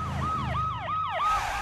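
An ambulance siren wails in a fast, repeating rise-and-fall pattern, about four cycles sounding loud and close in an animated scene, with no voices.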